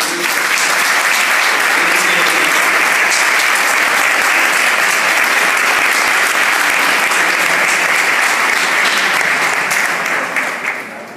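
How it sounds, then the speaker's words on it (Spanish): A large crowd claps in steady, dense applause that carries on loudly for several seconds before easing slightly at the end. "yo creo que merece un gran aplauso"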